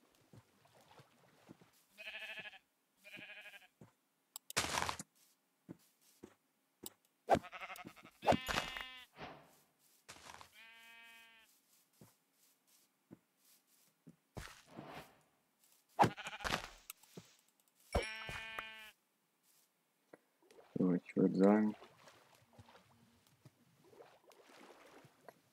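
Sheep bleating in the Minecraft video game as night falls: several short, separate bleats are scattered across the clip, with quiet gaps between them and no talking.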